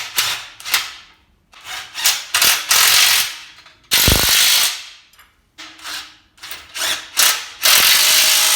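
A ratchet tightens bolts and nuts on a benchtop press in quick bursts of rapid clicking, loud and close, with brief pauses between strokes and a metallic clank near the middle.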